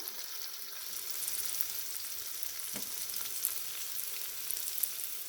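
Tuna in soy sauce sizzling in a pan and being stirred gently, a soft continuous hiss with a few light scraping stirs, fairly quiet and without talk.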